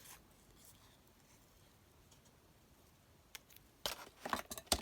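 Scissors snipping off a paper leaf in a handmade glue book: quiet room tone at first, then a few quick, crisp cuts and paper rustles near the end, close but faint.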